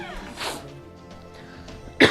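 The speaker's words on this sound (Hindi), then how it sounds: "मुझे बहुत खांसी आ रही है।" A person coughs in short bursts, a couple of soft harsh coughs early and a sharper, louder cough at the end, close to the listener.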